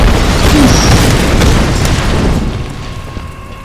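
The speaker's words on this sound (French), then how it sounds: "S'il y a du gaz et que j'arrive à le lancer par là, peut-être ça va exploser." A gas container explodes in Tomb Raider Definitive Edition, a loud, sustained booming roar that fills the clip and slowly fades out.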